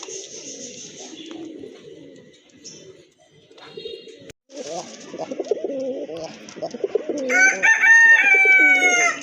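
Active red-coloured pigeons coo in low throaty bursts, close and fairly loud, with sharper high calls from other birds coming in near the end and a quieter gap partway through.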